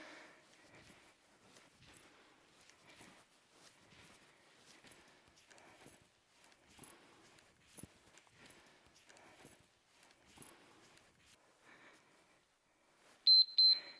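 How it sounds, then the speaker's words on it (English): A workout interval timer gives a short burst of sharp electronic beeps near the end, after a long stretch of faint footsteps and shuffling during an exercise routine. "That timer should be beeping any minute here."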